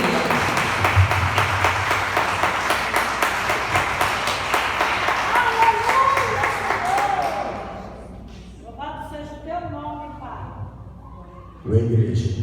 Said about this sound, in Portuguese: nós queremos te agradecer com uma salva de palmas ao nosso Senhor Jesus